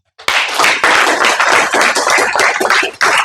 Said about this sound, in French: On devrait applaudir pour ça.